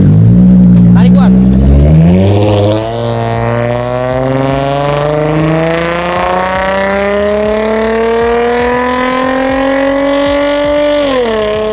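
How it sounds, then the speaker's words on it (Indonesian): A sedan's engine pulls away hard during a road trip, its loud revs rising steadily in pitch as the car accelerates, with a rough, strained drone continuing close and loud throughout. "Kali ini dengar suara mobil gue narik dan ternyata seanjing itu ya."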